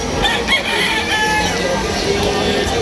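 A gamefowl stag with a straight comb, white legs and dark wine-red plumage crows once at a busy stag fair, the call fairly loud over a low background of crowd chatter.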